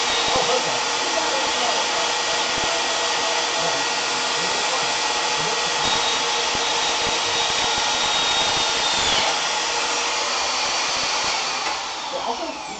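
A power tool cutting steel in a robotics build workshop, a loud continuous high-pitched grinding whine that holds steady for over twelve seconds without pause.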